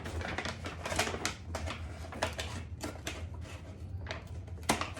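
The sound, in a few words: scissors cutting a paper bag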